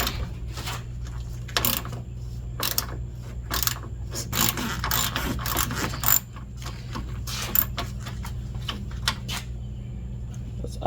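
Ratchet wrench clicking steadily as parts are unscrewed to free the radiator on a 2003 Acura TL, with bursts of rapid pawl clicks and short pauses over a low constant hum, fairly close and moderately loud.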